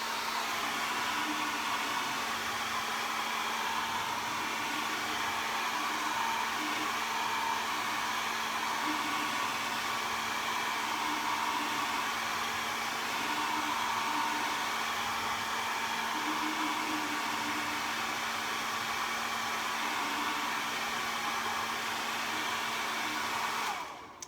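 A hair dryer drying a painted jar blows continuously at a steady, loud, close roar for the whole stretch, then cuts off abruptly at the very end.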